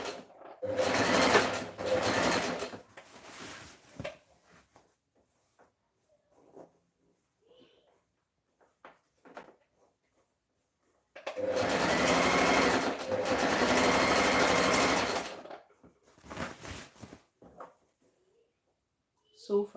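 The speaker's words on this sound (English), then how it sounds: "I'm going to just go ahead and stitch" A sewing machine stitches the seams of a dress in two loud, steady runs of about four seconds each, separated by quieter handling noises and brief pauses.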